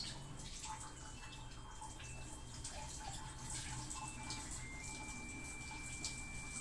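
Water runs steadily from the tap of a Trim Ion H1 alkaline ionizer, a continuous broadband splashing hiss that stays even throughout with a few faint tonal beeps or whines above it, and no one talking.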